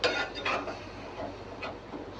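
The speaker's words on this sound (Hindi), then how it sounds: "और इसे अच्छी तरह से मिक्स कर लेंगे।" A spoon clinks and taps against a bowl or pan while vinegar and soy sauce are mixed for a chicken steak. A few light, irregular ticks sound fairly close against a quiet background.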